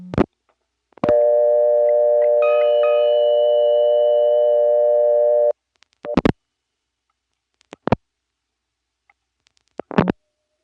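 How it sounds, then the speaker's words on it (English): A call rings through a 1977 step-by-step telephone exchange in Rock Hill, South Carolina, producing one long, loud, steady buzzing ring tone of several seconds, followed by a few sharp mechanical clicks and clunks of the switching gear. "Here's another call to the 324 number 1 EAX. It started to ring just as my tape ran out."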